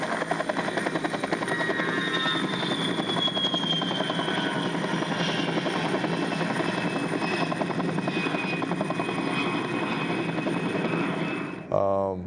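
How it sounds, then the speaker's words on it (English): A simulated Black Hawk helicopter's rotor thumps steadily and loudly, a continuous chopping drone overhead that holds throughout before a brief abrupt change at the end. "we can make a Black Hawk helicopter or an A-10 fly over on a mouse click"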